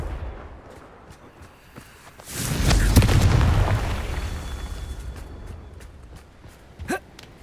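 A Confringo explosive spell detonates in the video game Hogwarts Legacy: a heavy booming blast swells after two seconds and rolls on for nearly two more before fading, followed by a sharp crack near the end.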